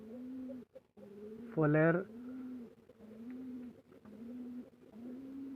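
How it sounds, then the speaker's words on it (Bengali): Pigeons at a small home pigeon farm, a steady low cooing repeated in rhythmic phrases close by, with one louder burst partway through and a brief spoken word over it. "এগুলো আমার কবুতর খামারের বাচ্চা।"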